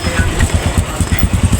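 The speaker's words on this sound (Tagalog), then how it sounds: "Daming motor dito." Many motorcycles on a steep mountain road near Daranak Falls in Tanay, Rizal, rumble loudly and close, a pulsing low engine throb with rhythmic bursts and clatter.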